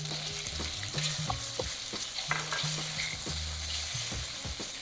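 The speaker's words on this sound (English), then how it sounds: "So you're gonna cook the eggs now. You're gonna add a little bit of oil to make sure the eggs doesn't stick to the pan." Eggs fry in a little oil in a seasoned wok, a steady close sizzle with repeated scraping of a spatula stirring them around.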